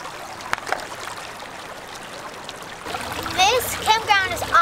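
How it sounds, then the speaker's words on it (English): River water flowing beside a campground, a steady wash and trickle throughout, with a voice chattering over the later part. "We're right by a river and we can make dams and all kinds of stuff."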